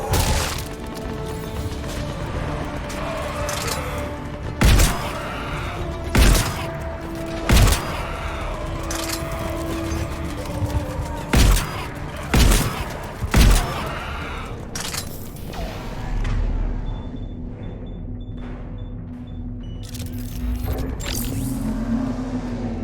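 Sharp gunshots ring out in Mass Effect 3 combat, several separate loud cracks over steady rumbling battle ambience, with voices heard in the mix.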